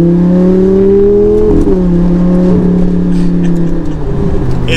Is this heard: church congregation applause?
no